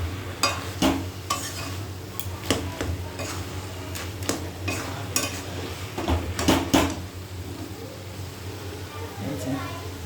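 Cabbage being stirred in a pan, with a series of scraping and clinking strokes of a spatula against the metal over a low background hum and a faint sizzle.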